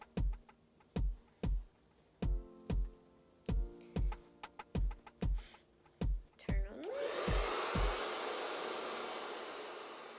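A series of sharp taps or knocks repeats about a dozen times in a steady rhythm, then a hair dryer switches on and blows a loud, steady rushing stream of air, close by with no talking.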